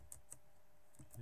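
Someone types an email address on a computer keyboard while setting up a Joomla site, giving a few soft, sparse key clicks at low volume in a quiet room.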